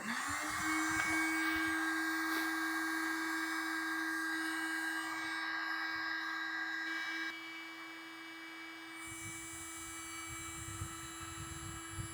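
Heat gun blowing steadily while warming a pushed-in dent to raise it, a continuous close, loud whirring hiss with a shifting tone partway through, no talk.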